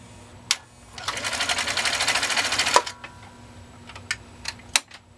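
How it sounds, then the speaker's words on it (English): A Husqvarna Viking 21-A sewing machine runs in a steady rapid whir for about two seconds, then stops, followed by a few soft, distinct clicks as its clutch re-engages. "You can hear that just real soft little click. That's the clutch automatically re-engaging again."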